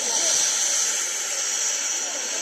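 A steam locomotive gives a loud, continuous hiss of escaping steam, steady and close, with no other sounds.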